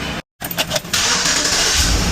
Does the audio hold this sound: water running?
no